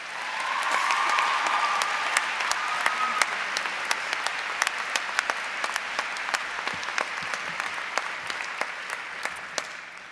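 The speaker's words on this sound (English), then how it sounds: "Please join me in welcoming Ashley with a round of applause." Applause from a commencement audience at the College of Saint Benedict, a dense, sustained wash of many hands clapping that holds steady for about ten seconds with a few sharper individual claps, while a voice is briefly heard through it.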